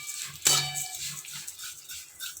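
A metal utensil strikes a wok once with a clear clang, then soft scraping follows as fried vermicelli is stirred with ghee, quiet and close.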